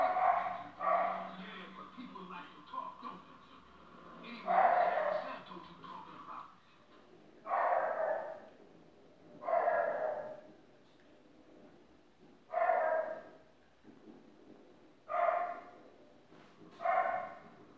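A dog barks repeatedly in short bursts spaced a couple of seconds apart, fairly close, with quieter stretches between barks.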